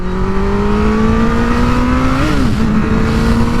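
A 2017 Honda CBR1000RR motorcycle engine revs hard while riding, a loud, steady high-pitched whine that climbs slowly and dips briefly during a gear change, with heavy wind noise underneath.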